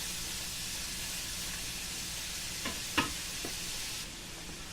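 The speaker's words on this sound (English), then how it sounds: "we put the sausage in here first. It's been cooking the whole time" Sausage sizzles in a hot pan with a constant hissing crackle, broken by a few soft knocks of stirring near the end.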